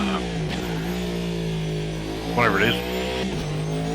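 A car driven on the road, its engine humming steadily with a brief rev surge midway, heard under continuous talking inside the cabin.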